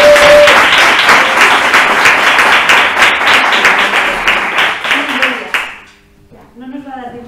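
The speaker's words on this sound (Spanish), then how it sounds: "Un aplauso para Estefany." A loud burst of audience applause for a participant at a theatre and gender workshop, dense rhythmic clapping that fades out, followed by a voice speaking.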